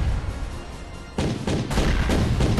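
Big cannons firing in the side-scrolling brawler Castle Crashers, a sudden heavy blast followed by a second burst, loud booming impacts over a dense, noisy game soundtrack.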